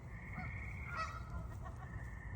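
Geese honk beside a pond where adults tend a group of goslings, a steady string of calls rising briefly over a constant low outdoor rumble.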